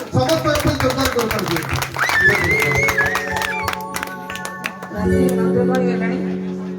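Audience clapping at a devotional bhajan evening during the Makara Mela in Puri, with steady rhythmic claps mixed into loud live music and singing throughout.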